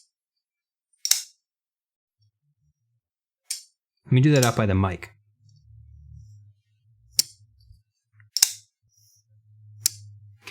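A custom titanium frame lock folding knife snaps shut in several sharp, bright metallic clicks spaced seconds apart, close to the microphone, with a brief stretch of someone talking between them.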